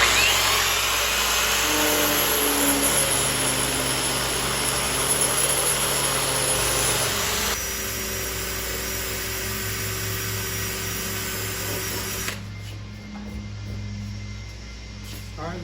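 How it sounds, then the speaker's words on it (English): A 120 grit flap wheel grinds metal during welding work on the roof and cowl of a Squarebody C10 pickup, a loud continuous whine that drops in pitch partway through and then eases off near the end. "I changed to a flapper wheel. It's 120 grit."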